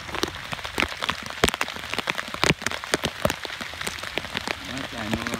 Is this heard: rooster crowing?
no